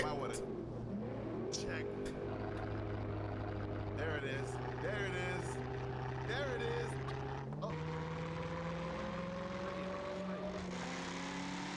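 A loud car engine in the BeamNG driving game, revving and holding steady droning tones that shift with gear changes on a mountain drive, with someone talking briefly over it.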